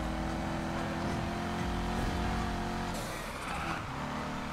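Car engine in the racing video game Need for Speed Heat, a steady loud drone that shifts and dips near the end as the car brakes badly, with no talking.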